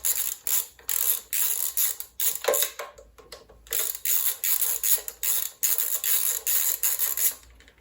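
Ratchet working a bolt loose on a Honda Transalp 650 with a star bit jammed into the head: repeated fast clicking strokes in steady bursts, close and fairly loud, with short pauses between pulls and no talking.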